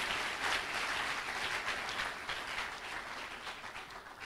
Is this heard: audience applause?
yes